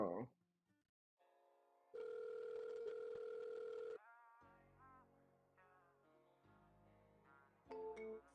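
A telephone call's ringing tone, heard as one steady, buzzy electronic tone lasting about two seconds, with shorter electronic tones and a faint voice before and after it.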